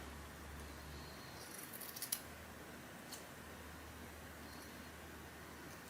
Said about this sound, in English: If I pull my thumb out, they fold. If I put my thumb in, do side pressure, they cut.